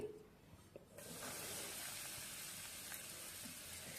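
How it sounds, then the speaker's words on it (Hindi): Torn bread pieces roasting in ghee in a pan. It starts quiet, then a steady, hissing sizzle rises after about a second and keeps up evenly, with no talking. "यहाँ पे हम ब्रेड को अच्छे से भूनेंगे ताकि ब्रेड में घी का बहुत ही अच्छा सा सोनापन आ जाए।"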